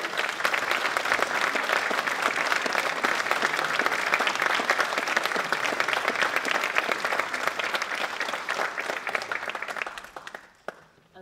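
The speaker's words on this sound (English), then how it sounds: "Round of applause." Audience applause at a college student awards ceremony, a sustained dense wash of many hands clapping that stays loud for about ten seconds, then thins and fades out at the end.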